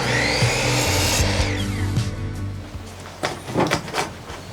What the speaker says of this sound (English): So it's just easier to cut these with the miter saw.